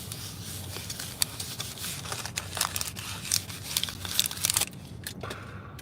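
Pencil writing is rubbed out with an improvised eraser, giving quick scratchy rubbing strokes in close bursts that stop near the end.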